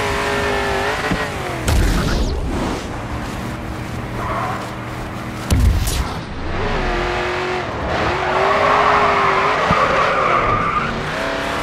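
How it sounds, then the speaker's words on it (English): A race car in Grid 2 drifts through a corner, tires skidding and squealing over a loud, steady engine roar with sharp revving shifts, no talking. "Next corner, let's see a drift."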